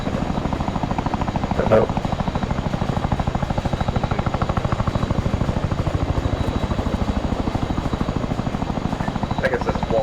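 Chinook helicopter in the video game Arma 3, a loud steady rhythmic rotor thump filling the whole stretch, with people talking briefly over it.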